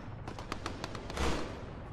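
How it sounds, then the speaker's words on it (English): Gunfire in the military shooter game Arma 3, a quick series of distant rifle shots in an uneven rhythm, followed by a louder, fuller blast, all fairly faint. "Just heard a little bit of gunfire down there"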